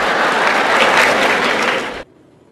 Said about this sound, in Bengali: হাততালি থামাও